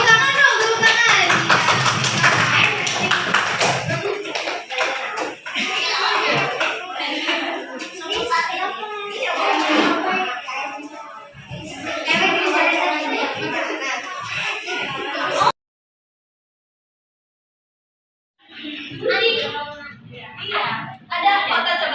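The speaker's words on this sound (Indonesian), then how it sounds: "Tepuk tangan dong, tepuk tangan." Schoolchildren at an Islamic elementary school earthquake-safety session clap their hands in a quick burst at the start, then children's chatter and an adult voice continue with scattered taps.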